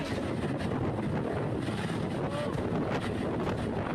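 A loud, continuous helicopter rotor and engine roar fills the air with wind buffeting, close by and steady throughout.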